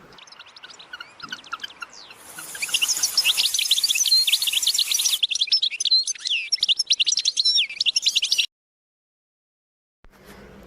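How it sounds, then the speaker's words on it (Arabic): Sparrows chirp in a dense, rapid chorus of high twittering notes, building louder midway and then stopping abruptly, with a faint low sound at the end. "عصفور"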